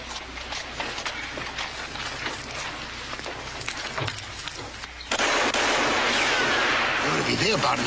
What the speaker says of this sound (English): Why don't you stop your yapping and get to shooting?